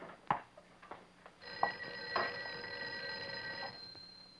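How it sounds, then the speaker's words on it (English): An old telephone bell rings in an office, a bright metallic trill beginning partway through and holding for about two seconds, with a few scattered knocks and clicks before it. "I think your phone is ringing."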